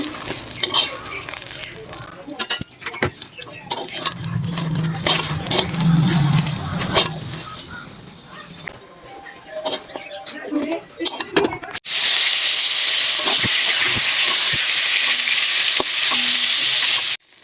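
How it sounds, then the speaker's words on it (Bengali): Pointed gourd (potol) frying in a pan with stirring and scraping, the sizzle turning into a loud, steady hiss partway through, with voices and kitchen noise early on. "এখন এই যে পটলটাকে ভাজবো"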